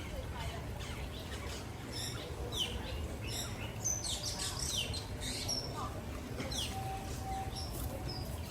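Many birds chirp and tweet in scattered, overlapping calls inside the aviary at Disney's Animal Kingdom, heard over a constant hum of crowd noise and faint voices.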